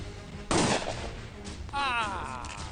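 A gun fired in a Hindi comedy film, one loud close blast followed by a second burst with a wavering, warbling tail.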